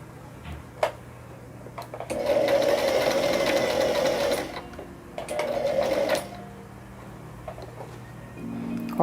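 A sewing machine stitches the collar of a women's parka in two steady runs of fast, close whirring and ticking with a pause between, then quieter handling noise.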